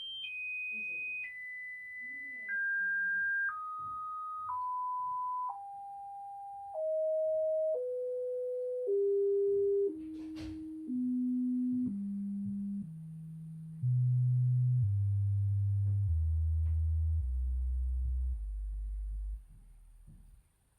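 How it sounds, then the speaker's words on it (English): A pure test tone descends in even steps from a high pitch to a deep bass hum, each step held a second or so, with nothing else audible. "a special series of test tones, going from highest to lowest ranges"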